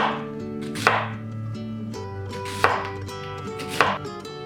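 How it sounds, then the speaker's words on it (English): A knife chops onion on a board while prepping ingredients for Korean army stew (budae jjigae). Three sharp, separate chops land at a steady pace, clear and close, over steady background music. "And chop your onion."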